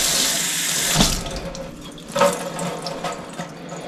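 Tap water pours steadily from a kitchen faucet over a Duramax LB7 aftermarket intake filter, a continuous hissing splash with a couple of louder spattering bursts as the stream shifts across the filter surface.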